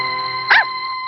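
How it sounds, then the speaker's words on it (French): A single short, high-pitched bark or yelp from a small dog, over a steady electronic hum. "Ça, c'est un chien."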